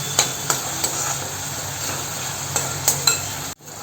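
Onion sautés in oil with a steady close sizzle, punctuated by several sharp spoon knocks against the pan. The sound ends with a sudden cut.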